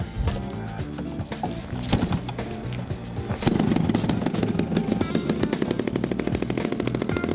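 A radio control model aircraft engine fires up and runs, a rapid buzzing rattle that grows louder and steadier about halfway through, close and continuous with no talk.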